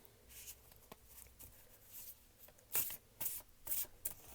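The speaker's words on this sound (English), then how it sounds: "So, now I shuffled." Oracle cards being shuffled by hand in a pick-a-card reading, a soft papery riffle and patter that grows into several louder bursts toward the end, with no talking.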